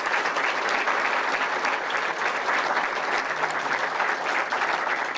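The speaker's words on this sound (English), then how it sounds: "would you give a round of applause for Preston as well?" A press conference crowd applauds steadily, a dense, even round of clapping filling the room for the full stretch without a pause.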